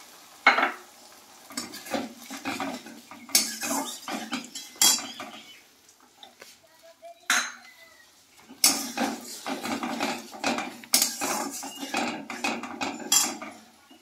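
A paste of cumin, green chillies and ginger goes into onions frying in a pan for Bengali fish curry, with repeated metal spoon clinks, scraping and stirring and a light sizzle underneath.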